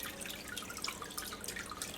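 Water draining and dripping out of wet recycled paper pulp, a steady patter of small drips close by, low and soft with no talk.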